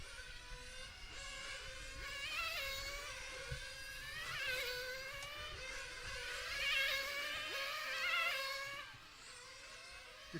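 RC cars race around a track with high, whining electric motors that rise and fall in pitch as they pass, several at once. The sound is continuous and moderately loud.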